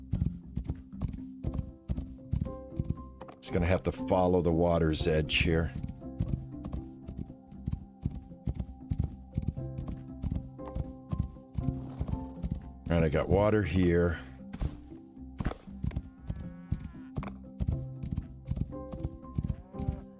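Horse hooves clip-clop steadily while riding in the video game Rising World, a continuous rhythmic patter under someone talking, with louder bursts of other game sounds midway.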